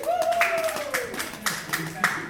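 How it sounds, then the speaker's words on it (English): A comedy show audience in Milwaukee claps in a few scattered bursts, sparse and fairly faint, with a voice talking over the top. "Clap it up if you've been to Don't Tell before."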